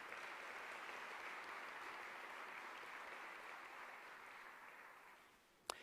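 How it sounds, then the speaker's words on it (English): A school audience claps steadily for a retiring secondary EAL teacher, a dense, even patter of many hands that holds for several seconds and then fades out, ending with one sharp knock. "we'll give Rob Brown a clap anyway"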